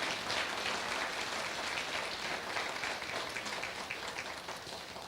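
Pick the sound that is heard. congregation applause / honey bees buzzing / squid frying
congregation applause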